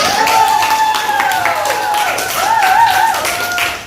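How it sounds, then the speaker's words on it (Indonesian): Schoolchildren clap for a classmates' group after a mind-mapping presentation in a fiqh lesson on zakat, a steady patter of hands throughout with high children's voices calling and cheering over it. "Beri tepuk tangan teman-teman."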